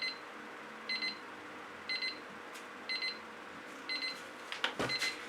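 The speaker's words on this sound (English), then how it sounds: "That's my timer telling me that I have 2 minutes to tell you guys whatever I want" A kitchen timer alarm going off, bursts of high electronic beeping repeating about once a second, with a short clatter of handling noise near the end.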